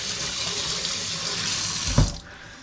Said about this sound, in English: You gotta wash all this brine off.